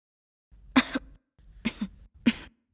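Three separate coughs, close and fairly loud, with short pauses between them.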